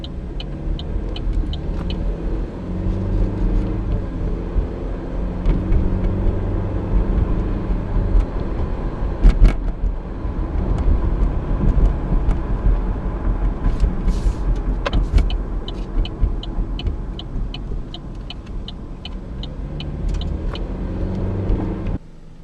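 A turbocharged car is driven around the block, heard from inside as a steady low engine and road rumble with occasional clicks and small surges in level.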